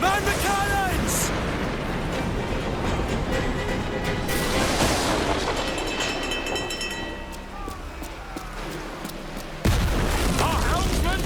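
Ship cannons boom in a naval battle in Assassin's Creed Black Flag, heavy blasts and crashes layered with game music and shouting crew voices, dense and loud throughout, with a sharp new burst near the end.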